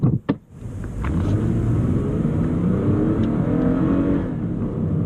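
A 2014 Lexus IS 250 engine pulls hard in sport mode, a steady low rumbling drone that holds strong and even from inside the cabin after a couple of brief thumps at the start.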